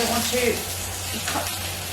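Duck legs sizzling steadily in a very hot frying pan, a continuous crackling hiss with no talking.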